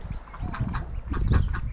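Ducklings on a farm lawn, one of them lame and lagging behind its siblings, give a steady run of small peeping and quacking calls at close range, with no talk over them.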